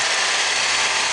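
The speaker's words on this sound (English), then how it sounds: "I think the engine running." Holden Captiva 2.4 LE5 engine running at an auto parts yard, a steady, loud whirring drone with a broad hiss and no voices over it.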